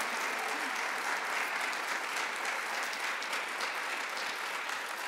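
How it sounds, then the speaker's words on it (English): A conference audience applauds a guest speaker at an evening event, steady dense clapping sustained evenly throughout at moderate level, filling the hall without pause. "Let's give her another round of applause."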